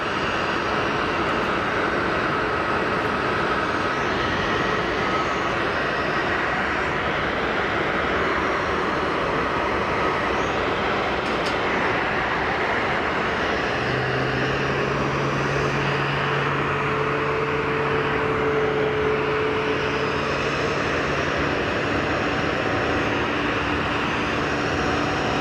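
EasyJet airliner engines at Geneva Airport make a steady broadband roar that stays level throughout, with a low droning hum entering partway through. No one speaks.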